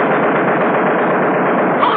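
Machine gun fired from a B-17 waist gunner position, from a 1944 training film: a sustained, unbroken rattle of automatic fire, loud but muffled and thin in tone.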